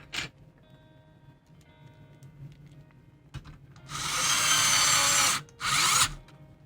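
A power drill drives screws during a GameCube mod, with two loud whirring bursts near the end, the first about a second and a half long and the second shorter, after quieter handling clicks and rustling.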